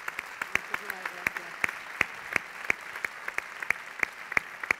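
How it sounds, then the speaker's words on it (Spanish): Audience at a sports gala applauding Audrey and her parents, heard as a faint, distant bed of crowd clapping punctuated by sharp, regular sharper claps nearby. "Fuerte el aplauso para Audrey y para sus padres."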